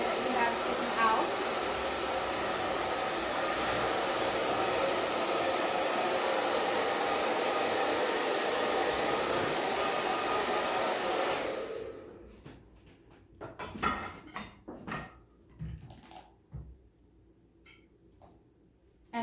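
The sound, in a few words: hair dryer blow drying hair with a paddle brush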